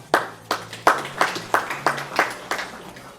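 Applause follows a high-scoring shot series during a mixed-team gold-medal shooting match, heard as a handful of distinct sharp claps in a steady, fairly slow rhythm over a low background hum.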